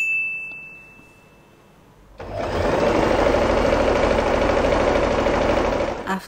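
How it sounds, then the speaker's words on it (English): Sewing machine running steadily as it stitches along folded scrunchie fabric, a continuous close whir lasting about four seconds after a quiet start. "we are going to sew all along the fabric."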